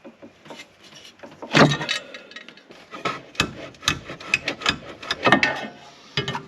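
Bolts come off the belt cage of a Kawasaki KRX side-by-side, heard as a series of close metallic clicks, scrapes and ratchety taps in irregular bursts, with no talking.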